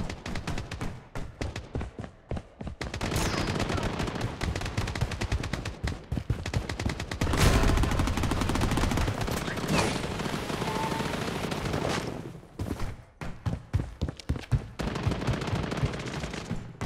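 Rapid gunfire and shotgun blasts from the Blood Strike battle royale game, loud and dense bursts running almost without pause, with short breaks and scattered single shots near the start and end.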